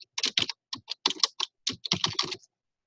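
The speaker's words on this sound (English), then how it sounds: "So I would just type that in." Rapid typing on a computer keyboard, a run of crisp close keystrokes in irregular clusters with short pauses, heard alone in a quiet room.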